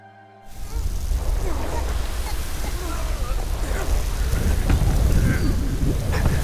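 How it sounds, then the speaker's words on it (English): A thunderstorm with steady heavy rain in the video game Monster Hunter Stories 3 starts abruptly after a brief quiet moment and rolls on as a dense, loud wash of rainfall with low rumbling thunder building toward the end. "The storm's even worse than I thought it would be."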